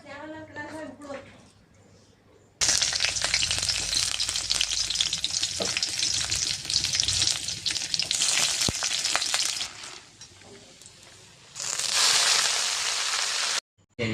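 Leafy water-grown greens hit a hot wok on a home stove and fry with a loud, dense hiss that fades briefly and then flares again, after someone speaks beforehand.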